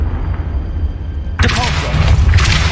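A Confringo fire spell blasts in the Hogwarts Legacy video game, a sudden loud burst cutting in midway over steady game ambience, followed by crackling sustained impact noise.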